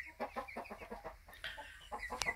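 Livensky hens cluck in a steady run of short, close calls, a busy farmyard chatter with one sharper squawk near the end.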